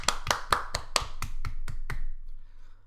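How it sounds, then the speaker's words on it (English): Hands clap sharply about nine times in a quick, fairly even rhythm, close and loud, and then the claps stop, leaving a faint low hum. "Everybody clap your hands."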